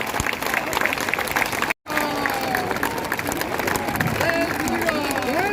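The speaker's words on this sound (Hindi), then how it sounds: "जैसे मैंने कभी लोगों को ताली बजाते देखा ही नहीं हो।" Audience applause at a Hindi poetry recital (kavi sammelan) in Rajnandgaon: dense, sustained crowd clapping fills the whole stretch, broken by a split-second gap, with some cheering mixed in and no talk.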